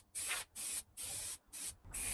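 A spray can lays high build primer onto plastic car bump strips in four short hissing bursts separated by brief pauses, close and fairly quiet.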